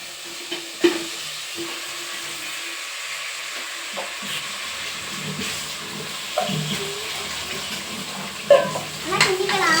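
Chicken fries in a pot for biryani with a low, faint sizzle, broken by occasional knocks and scrapes of a spoon against the pot and a louder clatter near the end.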